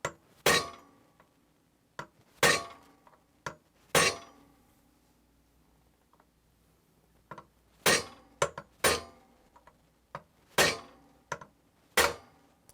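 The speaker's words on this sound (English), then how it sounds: "Just hit the side of the mixer with my hammer." Hammer blows striking the metal side of a KitchenAid Special Edition stand mixer during a repair: a dozen or so sharp, ringing metallic knocks, close and loud, arriving singly and in quick pairs with short pauses between them.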